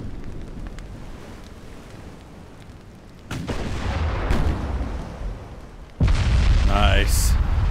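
Warship guns fire in Ultimate Admiral: Dreadnoughts, with two heavy booming salvos over a low background rumble, each blast followed by a long rolling roar.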